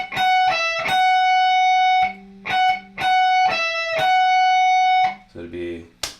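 Electric guitar playing a short triplet lick from a solo with the hammer-on left out, picked distorted notes ringing out in repeated phrases, loud and close, with brief quieter gaps and a low muffled voice near the end.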